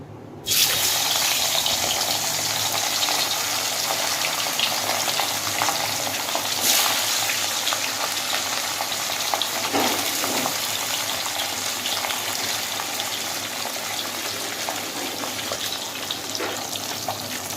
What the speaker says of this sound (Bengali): তেল খুব ভালোভাবে গরম হয়ে গেছে, এরপর মাছগুলোকে দিয়ে দেব